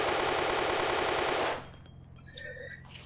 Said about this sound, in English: The new animations for the UK-59 general purpose machine gun.